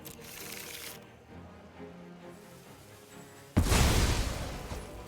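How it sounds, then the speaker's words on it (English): Digital card-deck shuffle effect from the video game MTG Arena, a soft whooshing ripple followed by a sudden, louder burst of bright shuffling noise near the end; no talk. "Shuffle my deck for luck."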